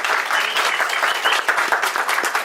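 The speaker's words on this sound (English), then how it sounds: "Should we give them a round of applause?" A room full of people gives a round of applause, dense and even clapping that stays close and loud for a couple of seconds without a break.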